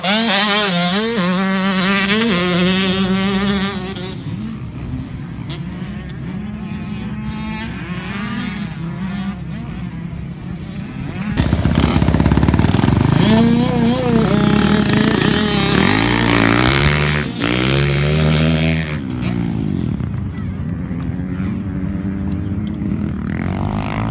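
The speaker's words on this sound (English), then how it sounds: "Luke is on the orange KTM, and his dad is on that Honda." Dirt bikes, an orange KTM and a Honda, rev and ride past, with loud buzzing two-stroke engine whine rising and falling, a nearby bike roaring in strongly midway before fading back to a steady drone.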